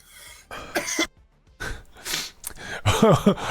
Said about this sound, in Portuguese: A tosse tá sacaneando aqui hoje